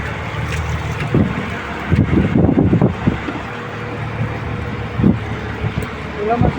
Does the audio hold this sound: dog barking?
no